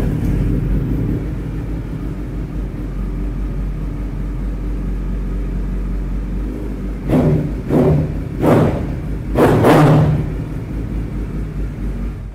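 Kawasaki Ninja Z900 superbike idling with a low steady exhaust rumble, then several sharp throttle blips rising and falling in quick succession, loud and close.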